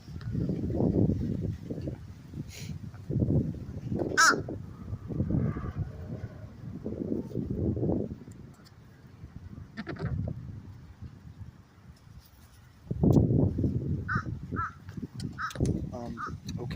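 A bird being hand fed gives a few sharp caws scattered among steady, close talking, with quieter stretches between the calls.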